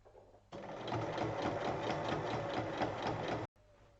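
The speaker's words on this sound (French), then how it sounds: "il faut piquer sur la ligne" A sewing machine stitches a straight seam on a fabric basket, a close, steady rapid whirring and clatter that starts abruptly, runs about three seconds, then stops.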